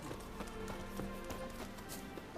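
Horse hooves clip-clop in a steady walking rhythm through The Witcher 3, a quiet and fairly close sequence of soft taps with a muffled game background.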